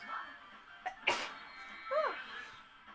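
A single short sneeze with a quick intake beforehand, close and moderately loud over quiet game background sounds.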